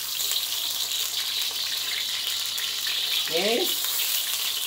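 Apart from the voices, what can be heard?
garlic and onion frying in a hot pan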